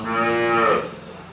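A cow on a farm gives one loud, close, drawn-out moo that rises and then fades away, heard alone.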